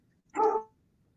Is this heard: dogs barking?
yes